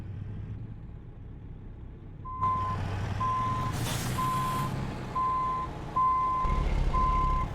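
A truck in American Truck Simulator gives a regular series of high reversing beeps over a low engine rumble, steady and fairly prominent, with a brief hiss partway through.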